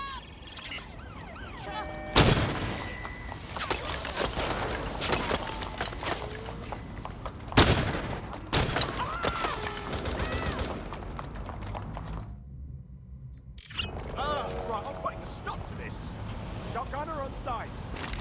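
Albion troops shooting in Watch Dogs Legion: a few sharp, heavy gunshots stand out amid busy street-fight noise, with people talking over much of it.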